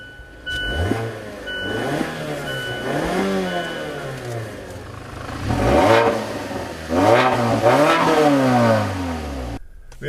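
A 2015 Mazda6 in sport mode on all-season tires revs hard and accelerates through repeated upshifts during a hot lap at IMI Motorsports Park near Denver, its engine note rising and dropping in close, loud surges.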